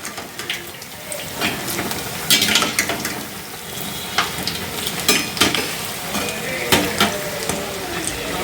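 Dosa batter sizzling on a hot pan, with steady close frying crackle and scattered scraping and clinking of utensils throughout.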